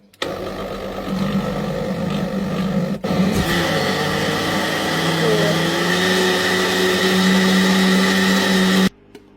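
A handheld blender chopper whirring steadily through mushroom soup ingredients, a loud continuous motor drone that steps up in pitch partway and then cuts off abruptly near the end.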